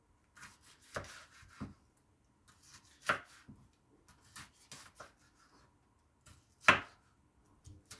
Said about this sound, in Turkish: Bir bütün domates doğrayacağım içine.